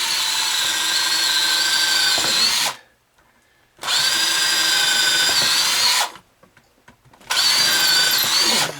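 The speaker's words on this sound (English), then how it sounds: "we want to be careful we don't drill through the other side." A power drill whines steadily into a wooden chair leg in three bursts, each a few seconds long, separated by brief pauses.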